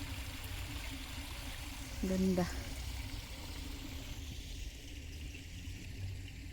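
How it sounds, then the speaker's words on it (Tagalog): Water flows steadily in Abday Park, a constant soft rushing wash heard close by, with a brief spoken word over it partway through. "Oh, ang tunog ng tubig."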